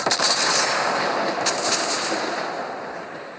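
Cruiser Königsberg's 6-inch guns fire in World of Warships Blitz, a sharp close burst of booming shots at the start followed by a few more reports and a fading rumbling tail.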